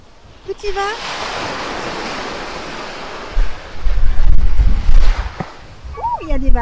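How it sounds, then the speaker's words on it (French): Sea waves washing onto a Corsican beach, a broad steady roar with surges of crashing surf and wind buffeting the microphone, while a voice and other people talk briefly over it. "Ouh, il y a des vagues."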